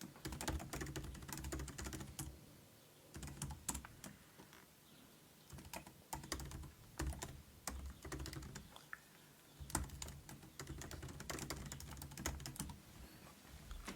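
Quick bursts of typing on a computer keyboard while writing multi-line text, with irregular runs of close, crisp key clicks and short pauses between them and no talking.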